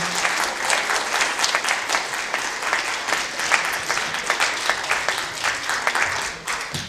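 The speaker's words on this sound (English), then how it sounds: "Let's give a round of applause for our panelists." A debate audience gives the panelists a loud, sustained round of applause, many hands clapping densely and steadily, with a few faint voices underneath.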